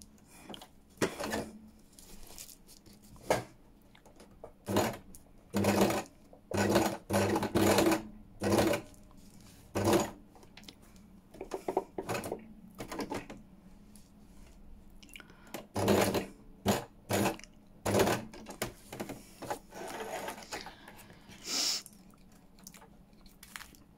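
A sewing machine stitching across fabric for a junk journal cover runs in short bursts of whirring, stop-start passes with brief pauses between, close and clear with no voices.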